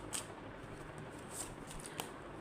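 Tarot cards are shuffled in short, faint riffles and flicks, a soft papery rustle with a few crisp snaps against quiet room tone.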